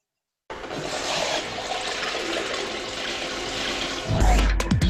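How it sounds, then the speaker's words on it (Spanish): Water poured from a bucket into a toilet bowl to flush it without a cistern, a loud continuous rushing gush for several seconds that ends in a sharp splash and gurgle. "se puede tirar igualmente de la cadena echando un cubo de agua por la taza"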